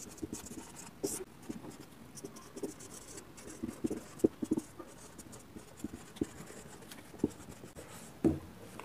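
A teacher writes an answer on a board, the pen or chalk producing soft taps, scratches and strokes in an irregular rhythm, close and quiet with no speech.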